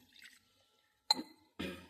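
Water splashes from a drinking glass into a pot in two short bursts, with a faint clink of glass, quiet and close, with no talking.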